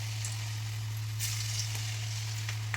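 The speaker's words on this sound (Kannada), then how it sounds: "ಎಣ್ಣೆ ಬಿಸಿ ಇದೆ, ಎಣ್ಣೆಗೆ ಹಾಕ್ತಾಯಿದ್ದೀನಿ." Faint, steady sizzle of potato fritter batter dropped into hot frying oil, a continuous soft crackle under a low electrical hum with no talking.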